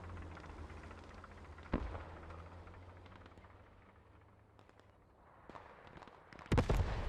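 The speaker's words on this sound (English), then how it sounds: "Mortars, you know whose mortars these are going to be." Mortar rounds land in the World War II shooter Post Scriptum during a competitive match: a couple of heavy, distant booms break through a steady low battlefield rumble, with no talk.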